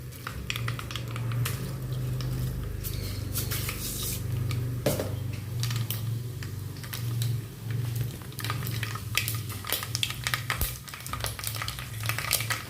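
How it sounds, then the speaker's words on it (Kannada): Mustard seeds tempering in hot oil for bussaru, with a steady sizzle under scattered sharp pops and crackles, close and fairly loud, with a low hum beneath and no one speaking. "ಎಣ್ಣೆ ಹಾಕಿದ್ದೀನಿ, ಸಾಸಿವೆ ಹಾಕ್ಕೊಳ್ಳೋಣ."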